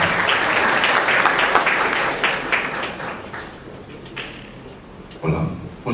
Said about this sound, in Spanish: Los aplausos para el señor Carlos Ávila Ágreda